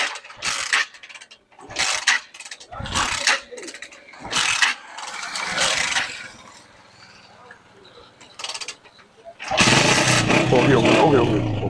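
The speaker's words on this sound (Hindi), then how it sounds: "अच्छा दुआ करो बाइक स्टार्ट हो जाए अब।" A motorbike brought back by a mechanic is kicked over with ratcheting mechanical clicks, then its engine catches and settles into a loud, steady idle close by, with people talking during the attempts.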